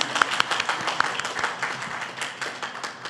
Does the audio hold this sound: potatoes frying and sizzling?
no